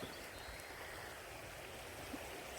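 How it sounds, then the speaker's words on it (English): A river flows steadily beside a garden, a soft, even rush of water that stays constant and fairly faint throughout, with no voices. "I love the sound of the river."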